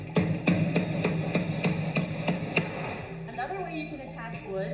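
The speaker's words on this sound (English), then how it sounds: "we can use a hammer and nails for that. Keep your eye on the nail and swing away." A hammer driving nails into wood, about nine sharp, evenly spaced strikes in quick succession, up close, followed by a voice speaking.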